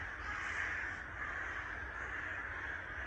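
Ravens calling in a German forest, a sustained run of harsh, hoarse caws that blend into a continuous croaking chorus, fairly loud with no talk.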